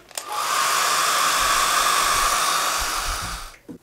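A hair dryer blows steadily on watercolor paint, a loud, continuous airy whoosh that starts abruptly and cuts off near the end.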